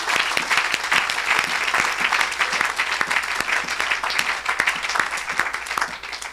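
Church congregation applauding and cheering during a Saturday worship service, dense steady clapping filling the room from start to finish with faint voices mixed in.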